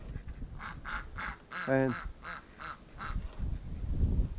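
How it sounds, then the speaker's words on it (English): Ducks on a winter pond give a series of evenly spaced quacks, moderately close, across a few seconds, with brief background voice and some low rumble. "the ducks are all heading over in there now, so they're doing really well"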